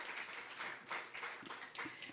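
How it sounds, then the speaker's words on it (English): Applause from an audience at a mayoral bill-signing ceremony for senior citizen tax relief, a steady wash of clapping over 2 seconds with a few brief voices and cheers mixed in. "Would you stand and receive a round of applause?"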